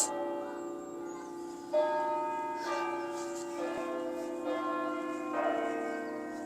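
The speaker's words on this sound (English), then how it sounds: "I think you might be able to hear the church bells" Church bells at York Minster ring out in overlapping, resonant peals that sustain and build, heard from a moderate distance with a steady ringing tone.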